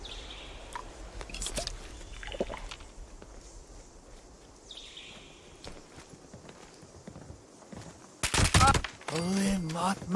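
Rifle shots in Fallout 76 crack out as a few sharp, loud bursts near the end, after a stretch of quieter ambient game sound and scattered footsteps.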